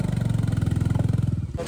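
Motorcycle engine with a damaged silencer, idling with a loud, rough, throbbing exhaust pulse that runs steadily and close for nearly the whole stretch before cutting off near the end.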